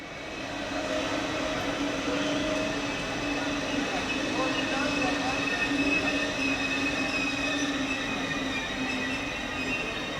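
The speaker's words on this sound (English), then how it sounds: "Arriving in platform 8 is 101033, at the head of train IC2311" Electric locomotive 101033 arrives at a German platform heading intercity train IC2311, with a sustained loud rolling rumble and steady wheel squeal throughout.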